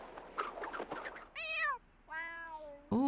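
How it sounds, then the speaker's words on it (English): Cats fight in The Sims 4 life-simulation game, with a burst of scuffling noise followed by several loud, drawn-out yowling meows and a final sharp cry, close and clear with no talk. "Ooh, cats are fighting!"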